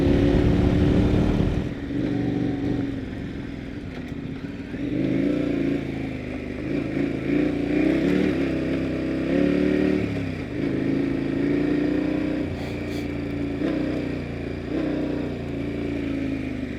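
A KTM adventure motorcycle rides a dirt two-track trail in Arizona, its engine droning and revving up and down in waves, close and steady, with wind buffeting and an abrupt loud burst at the start.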